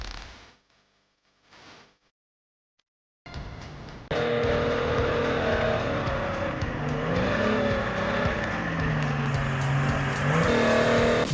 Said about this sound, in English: The roar of the Detroit engine echoes through the forest as the mountain logger 150 rips through the turns